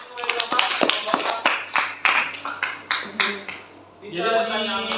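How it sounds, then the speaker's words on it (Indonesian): Students in a classroom give a round of applause with sharp, uneven claps close by for about four seconds, then talk takes over as the clapping stops. "Kita beri tepuk tangan."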